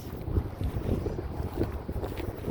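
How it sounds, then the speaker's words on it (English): Wind gusts blow across the microphone outdoors beside a parked vehicle, a low, uneven rumbling buffet that swells and drops continuously. "If you haven't noticed, the wind is blowing and it's actually kind of nice."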